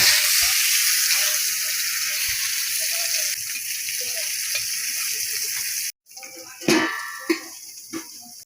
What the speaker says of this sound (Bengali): তেল দিচ্ছি বন্ধুরা এই যে বেগুন দিব ঢাকা দিয়ে দেই